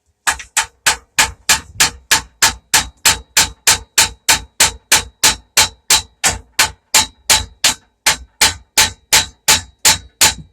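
A hammer strikes metal about thirty times in a steady, fast rhythm, each blow a loud, ringing clang close by.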